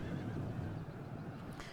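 A horse neighs faintly amid a busy battlefield din in the Total War: Attila strategy game, the whinny brief and low in level with no voices over it.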